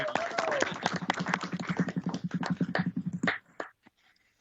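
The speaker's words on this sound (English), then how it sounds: "If you will please join me in applause" A council meeting audience applauds an honoree with a burst of clapping from a modest crowd, sharp individual claps over a low hum, tapering off and stopping near the end; a voice is briefly heard at the start.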